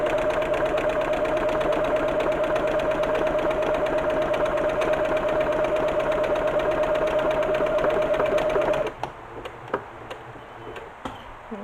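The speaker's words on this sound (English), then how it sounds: "it's going to zigzag back to create the fourth side" A sewing machine runs continuously while stitching the zigzag side of a buttonhole, a steady fast whirring hum close by, then stops abruptly, leaving a few faint clicks and handling sounds.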